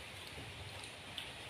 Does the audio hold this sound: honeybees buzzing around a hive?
no